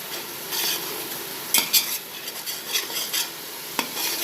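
Onions frying in a pan for chicken dum biryani give a steady close sizzle, broken by a few sharp scrapes and taps of a spoon against the metal.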